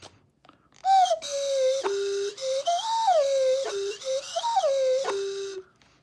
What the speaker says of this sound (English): This is a literal dog whistle, not a metaphorical one.